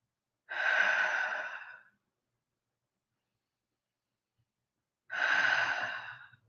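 Slow, deep breaths during a guided meditation, two long airy exhalations several seconds apart, close and clear with near silence between them and no talking.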